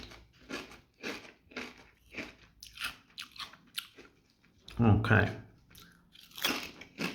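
Thick kettle-cooked Kettle Mature Cheddar and Red Onion crisps crunch loudly and close up, in a few sharp bites followed by chewing, with a short spoken word at the start.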